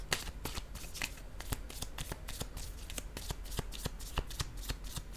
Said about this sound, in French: je vais déposer une autre carte encore